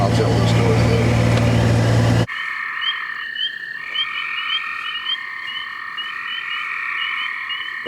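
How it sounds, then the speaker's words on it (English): Frogs croaking beside an old pond at night, a steady chorus of repeated high calls that carries on alone after a loud burst of other noise at the start. "Let's get up here by the old pond so we can hear the frogs."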